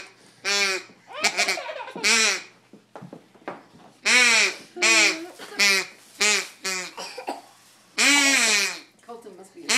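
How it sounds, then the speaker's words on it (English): Duck call blown over and over in short honking, quacking bursts with a harmonic, voice-like tone, loud and close, in irregular groups separated by brief pauses. "I got a duck call."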